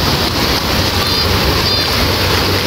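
Big ocean waves break and wash at a beach, a loud continuous roar of surf mixed with wind buffeting the microphone.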